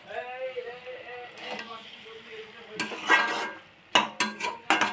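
Cabbage and catla fish head curry gets stirred in a pan after garam masala and ghee are added. Soft scraping gives way to several quick clinks of the spoon against the pan, with someone talking over the first part.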